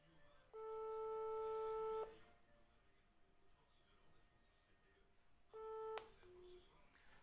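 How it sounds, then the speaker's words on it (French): Telephone ringback tone on an outgoing call that goes unanswered: two long steady electronic tones, each about one and a half seconds, separated by a pause, clear and alone with faint background. "Appel en cours, mais il ne répond pas."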